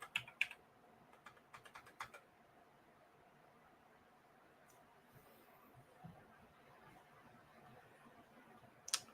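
A computer keyboard types a short word, a brief flurry of soft clicks at the start over steady background hiss, then a long quiet stretch and a single final keypress.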